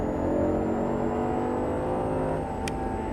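An Audi R8 V10 on a track in Las Vegas, its engine heard from inside the car, holds a sustained, steady, loud drone with a smooth rise in pitch as it accelerates.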